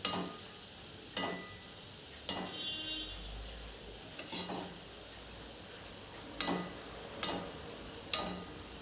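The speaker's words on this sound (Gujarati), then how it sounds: "આપણે ગેસની ફ્લેમ સ્લો રાખીને તળીશું" Sweet ghughra pastries fry in oil over a low gas flame, a soft, steady sizzle with occasional clicks and taps of a utensil against the pan, faint and without talk.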